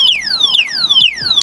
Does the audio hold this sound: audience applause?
no